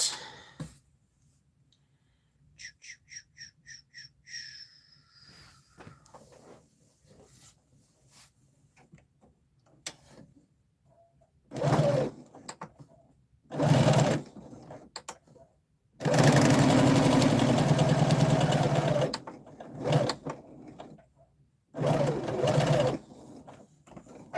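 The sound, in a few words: sewing machine stitching dress shoulder seams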